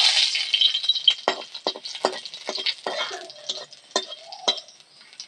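Cumin powder being stirred into a little water to make a spice paste for a hilsa fish dish, heard as a run of distinct scraping, tapping strokes close by, with no talk.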